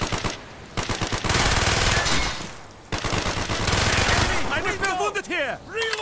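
Rapid automatic gunfire in Call of Duty Black Ops, played on PC, crackles in loud sustained bursts with short gaps, while shouted voices call out over the fighting.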